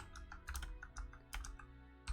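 Typing on a computer keyboard while coding an Arduino RGB LED program: a quick, irregular run of soft key clicks, close and quiet, with no talking.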